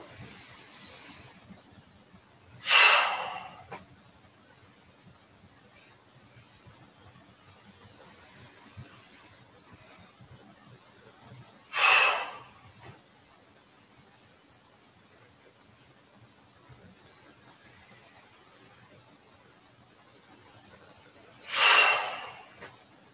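Deep, slow breaths during a Guolin qigong exercise: three separate long exhalations spaced about nine seconds apart, soft and close, with near silence between them.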